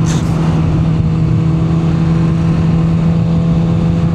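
Several motorcycles gathered at the start of a group ride idle loudly close by, a steady low engine drone with a brief rev at the start, with no talk over it.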